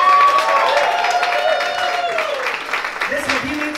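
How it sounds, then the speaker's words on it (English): An audience at a lullaby event breaks into applause and cheering, a dense, steady wash of clapping from many people, with a voice speaking over it and a few scattered calls. "So let's give them a round of applause."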